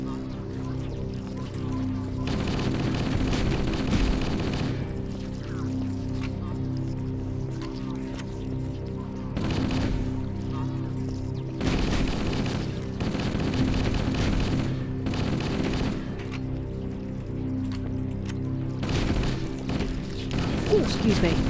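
Assault rifle fire in Halo: Combat Evolved, repeated sustained automatic bursts through the clip over constant game background, with a voice talking at times.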